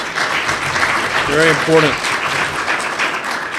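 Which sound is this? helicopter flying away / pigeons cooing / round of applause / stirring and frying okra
round of applause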